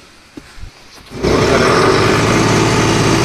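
A John Deere 5310 CRDI tractor engine, a new model, starts after a few faint clicks and thumps, then runs loud and steady near the listener with a constant rumbling drone.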